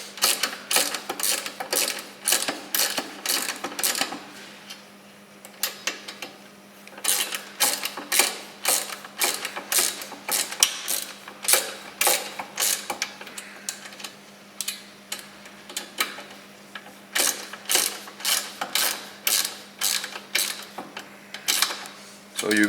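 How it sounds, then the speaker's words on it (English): Rapid ratcheting clicks from a tool tightening screws on a BMW R 1200 GS skid plate, coming in quick rhythmic runs separated by short pauses, close and crisp over a faint hum. "We will tighten the screws, and this will help to remove the two springs"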